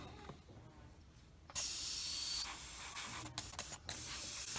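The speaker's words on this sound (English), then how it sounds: "let me spray just a little residual out of the nozzle" A steady, loud Sparmax Flyer SR airbrush hiss sprays residual paint from the nozzle continuously after a quiet start, briefly interrupted twice before resuming.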